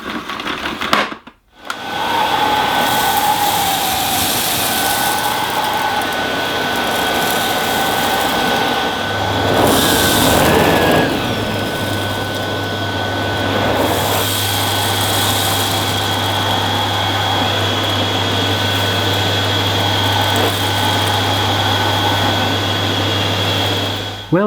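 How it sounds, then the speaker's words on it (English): A Dyson Ball DC49 Multi Floor ultra-compact vacuum cleaner runs with a loud, steady whine after a brief dropout at the start, its pitch shifting slightly partway through as it works over the floor. "that's about the end of my unboxing and first look at this Dyson DC49 vacuum cleaner"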